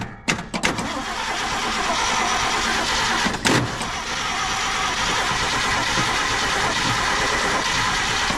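A 1978 Ford F-350 engine cranking after the starter solenoid is jumped, with a few sharp clicks at first, then a loud, steady, even cranking churn close by.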